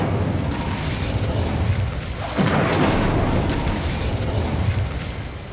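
An Incendio fire spell cast in Hogwarts Legacy bursts out as a loud, booming whoosh of flame that swells suddenly midway and holds over a steady ambient bed.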